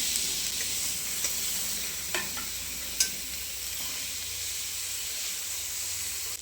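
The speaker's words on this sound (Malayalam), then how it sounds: "മുറിച്ച് വെച്ചിരിക്കുന്ന പനീർ കഷ്ണങ്ങൾ ഇതിലേക്ക് ചേർത്ത് കൊടുക്കാം" Paneer pieces fry in sunflower oil with turmeric, a steady bright sizzle and hiss with a few light stirring taps, close and continuous.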